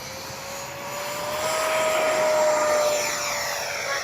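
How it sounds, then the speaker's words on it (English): A Freewing F/A-18C 90mm electric ducted-fan RC jet spools up for takeoff, a loud, sustained high-pitched whine with rising tones that swells and holds steady, heard close and alone. "we'll do a takeoff from down there"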